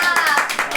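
A short burst of a few close hand claps mixed with a voice talking over them, during a casual group livestream.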